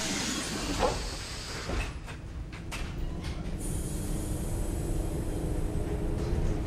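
Palm Jumeirah monorail train departing, doors sliding shut with a few thumps and knocks followed by a rising steady hum and rumble as the carriage pulls away, heard from inside.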